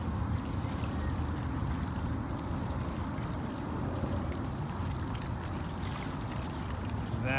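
Boat passing on open water, a steady broad rumble of motor and wash with splashing, continuous and moderately loud throughout with no voices.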